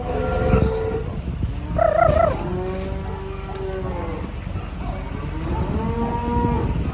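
Several cattle moo repeatedly on a farm during sorting, overlapping low calls from near and farther off, with rustling farmyard noise throughout.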